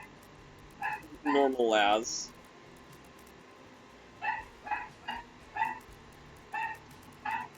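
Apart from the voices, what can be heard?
dog moaning in the background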